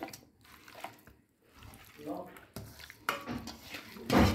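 Fish pieces are mixed with garam masala powder, oil and salt in a bowl. Quiet, intermittent wet squelches and dish clinks rise toward the end, with a voice faintly present.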